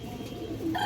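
Pigeons at a farm selling birds give a short low coo with faint higher calls near the end, fairly quiet and close, with no talking.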